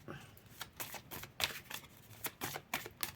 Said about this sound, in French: Ah, elle s'était retournée.